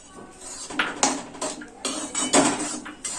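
Semolina (rava) mixed with cardamom powder in a metal vessel, with a spoon clattering and scraping in several close, loud, uneven strokes.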